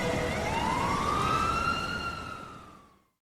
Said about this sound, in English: I still don't know why there's police sirens, but okay.